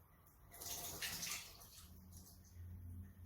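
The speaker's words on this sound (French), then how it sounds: "L'eau coule." Water pours from a bottle indoors in a home classroom demonstration, a soft splashing trickle that swells to a brief rush and then settles into a quieter steady flow.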